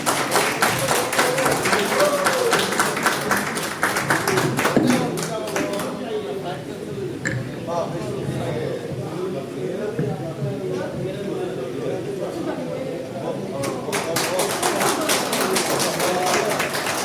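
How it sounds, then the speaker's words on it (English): An audience at a cement dealers meet in the Andaman & Nicobar Islands bursts into applause, dense clapping at the start that thins under a voice and then swells again at the end. "Big round of applause for her."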